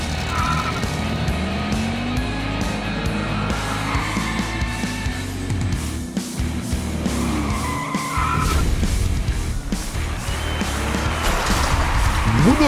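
Diecast toy cars race down a track in a Zamac final, their rolling rumble and whir running steadily and loudly throughout.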